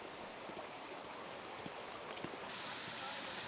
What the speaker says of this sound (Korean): 절구폭포에 도착했습니다.